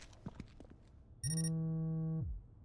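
A telephone rings once in the video game Homefront The Revolution, a single electronic ring lasting about a second after faint murmuring, with no talk over it.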